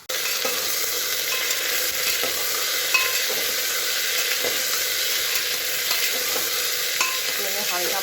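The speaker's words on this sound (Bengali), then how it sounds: "তেল দিয়ে এই যে জিরে ফোড়ন দিয়েছি" Cumin seeds sizzle in hot oil as the tempering for a potato, taro and eggplant curry, a loud steady close frying hiss with faint stirring scrapes, no talking.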